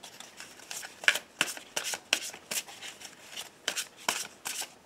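An Aloha oracle card deck being shuffled by hand, a quick run of crisp riffling bursts in an uneven rhythm, close up with no voices.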